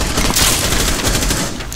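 Dense automatic gunfire crackles in a Rainbow Six Siege match, a loud sustained barrage of rapid shots that fills the whole stretch and eases slightly at the end.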